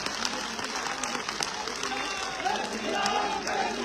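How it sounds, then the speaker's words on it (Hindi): Audience applause at a BJP nomination rally in Amber, a sustained mass of clapping with crowd noise, shouts and voices mixed through it. "गगन भेदी वाली तालियां जोरदार केशव प्रसाद मौर्य जी के लिए जोरदार तालियां"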